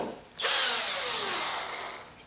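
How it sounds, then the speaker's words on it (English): Power drill driving screws into a wooden block on a harp under construction, one loud continuous whirring run that starts abruptly and slowly tapers as the screw seats, with no talking. "we can put these screws in."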